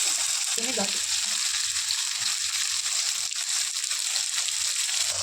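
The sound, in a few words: tomatoes with salt sautéing in a pan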